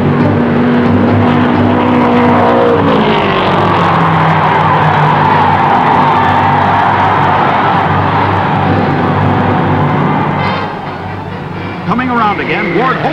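Vintage 1960 Indy 500 race cars roar past wheel to wheel, a loud sustained engine drone that rises and fades as they sweep by, with a narrator talking over much of it.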